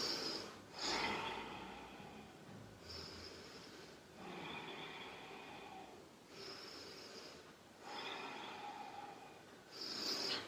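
Slow, deep breaths drawn during a kneeling yoga rest pose with forearms on the mat and forehead on the thumbs, a few long inhale-exhale cycles, close and fairly faint, with no talking.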